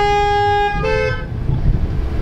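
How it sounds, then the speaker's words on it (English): A car horn honks outside a church during Sunday morning worship, a loud, sustained toot lasting about a second, followed by a shorter second tone and then ambient outdoor rumble. "That's a happy honk."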